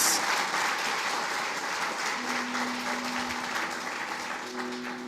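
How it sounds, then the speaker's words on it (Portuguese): Applause from a church congregation during a Brazilian Portuguese sermon, a soft, distant wash of clapping that holds steady throughout, with faint tonal hum beneath. "Você pode dar um aplauso para Jesus aí, querido"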